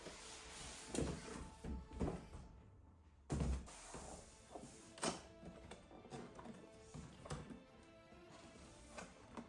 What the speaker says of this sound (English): Once you get the box open,